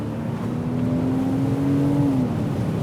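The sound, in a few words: convertible car engine accelerating at full throttle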